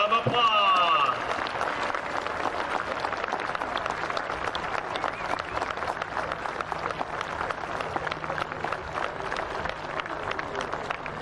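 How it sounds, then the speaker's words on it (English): Steady applause from a crowd at a high school football game at Grand Lake Health Systems Field, St. Marys vs Lima Shawnee, honoring Hall of Fame inductees, with continuous dense clapping filling the whole stretch under faint background talk. "Let's give them all a round of applause."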